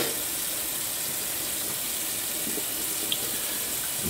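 Water runs steadily from a tap to wash out a Glock pistol barrel at a sink, a continuous close hiss with no speech.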